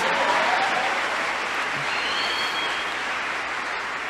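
A congregation at an evening church service gives sustained applause for the Lord, a dense, steady wash of clapping that fills the room evenly for several seconds without voices on top.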